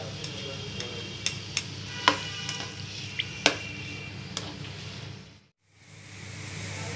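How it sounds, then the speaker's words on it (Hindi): Onions frying in oil in a kadhai, a steady low sizzling hiss with scattered sharp pops and spatters, close and moderately loud, which drops away briefly near the end before resuming. "सबसे पहले कढ़ाई में ऑयल डालकर इसमें प्याज डाल दें, और प्याज को गोल्डन ब्राउन करें"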